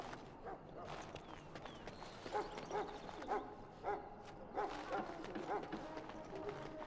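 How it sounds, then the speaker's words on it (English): Dogs bark repeatedly in a Dragon Age: Origins game scene, a string of irregular woofs at moderate distance over a busy background of game ambience and footsteps. "everywhere I go, it's barking dogs"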